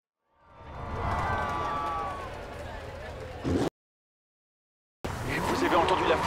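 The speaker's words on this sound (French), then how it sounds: "Vous avez entendu la foule se déchirer." In the racing game Forza Horizon 2, a crowd roars and cheers at a festival stop, a broad swell of voices that rises and fades before a brief silence, then resumes loudly with a speaking voice over it.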